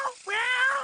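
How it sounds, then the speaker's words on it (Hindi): A black cat gives a single short, close meow, rising then falling, clear and alone. "हे, काली बिल्ली!"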